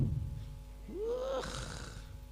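A voice imitates an elderly person snoring with one drawn-out, rising nasal snort, heard close and fairly loud over a faint low hum.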